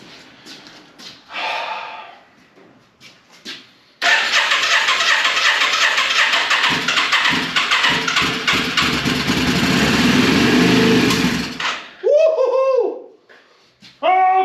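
A flooded 1995 Yamaha Virago 535 motorcycle, sprayed with carb and choke cleaner, suddenly fires and runs loudly and roughly for about eight seconds before cutting out, with faint sounds before it starts and brief vocal noises afterward.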